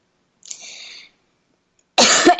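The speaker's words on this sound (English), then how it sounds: "that was a poorly timed cough" A single loud, rough cough bursts out close to the microphone near the end, following a faint breathy sound and quiet pause.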